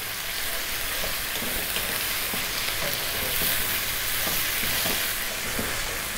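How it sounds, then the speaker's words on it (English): Tomato and bacon pasta sauce with crushed plum tomatoes bubbles and sizzles steadily in a pan, a dense constant crackle with faint intermittent stirring scrapes underneath. "Give it a stir every now and then."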